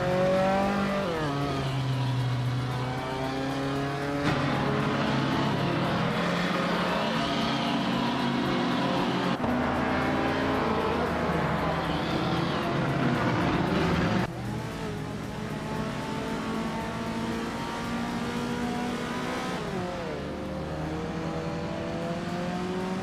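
Several race cars, nimble Lada and Alfa Romeo models among heavier ones, lap a tight circuit of short straights and corners, engines revving and shifting loudly and continuously throughout, with no talk.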